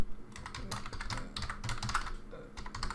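Rapid typing on a computer keyboard while contact details are entered into a CRM system, with dense, irregular clicking key strikes close up throughout and no talk.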